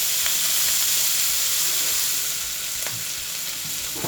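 Steady, dense sizzling of bacon frying in a hot pan, loud and close, with a few faint clicks; no voices.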